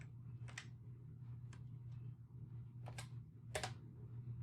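Someone types a few keys on a computer keyboard, producing sparse, faint taps scattered over a soft steady hum, with no talking.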